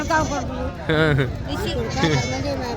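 Sheep bleat loudly and repeatedly at the Pebbair livestock market, with several wavering cries overlapping nearby amid the hubbub of people talking.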